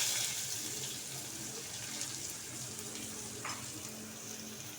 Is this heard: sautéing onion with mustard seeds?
yes